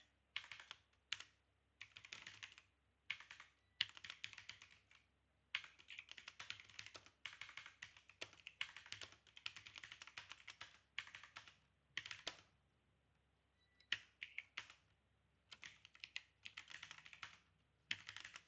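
Bursts of rapid keystrokes on a computer keyboard while typing a C program, close and clear, separated by short pauses, with no talk.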